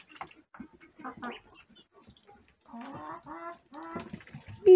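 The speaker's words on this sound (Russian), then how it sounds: "Вон петух красивый, какой статный." Several short bursts of rooster clucking and squawking in a backyard, close by, with a louder harmonic cluck near the end.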